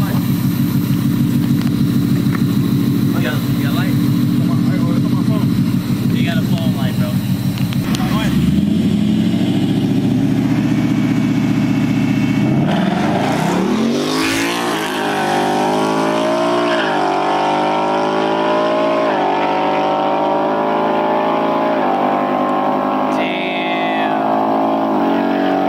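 A Ford Mustang and a Nissan GTR line up for a heads-up drag race, their engines droning loudly and continuously before one revs up in a rising sweep midway, with voices talking over the roar.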